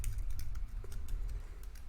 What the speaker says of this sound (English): you want to go ahead and type in your content here